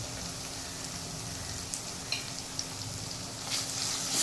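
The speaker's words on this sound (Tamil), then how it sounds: "பூண்டு நல்லா வதங்கிடுச்சு" Crushed garlic sautéing in a pan for South Indian tomato rice makes a soft, steady sizzle with a few faint clicks of stirring and a slight swell near the end.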